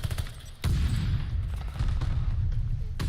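Grenade explosions in a Call of Duty League grand finals match erupt as heavy, low booms. A sharp blast lands early, another near the end, and a rumbling, dense battle din runs between them.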